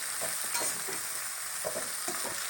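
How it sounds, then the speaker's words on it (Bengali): Ingredients for a Bengali bata fish curry fry in a pan under a constant soft sizzle, with repeated spatula stirring and scraping strokes close by; no talking. "এবার ভালো করে নাড়াচাড়া করব দিয়ে ভাজা ভাজা করে নেব"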